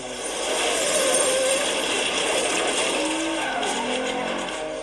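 An Aston Martin chased by an Alfa Romeo through traffic, engines roaring close with squealing tires and skids rising and fading in a sustained high-speed rush.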